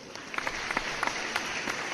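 A canned applause effect plays at a steady moderate level for about two seconds, dense clapping with no breaks and no voices over it.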